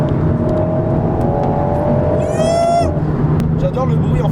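Alpine A110 sports car engine revving under loud overlapping talk, a rising whine climbing steadily then cutting off near the end, with constant road and engine rumble throughout.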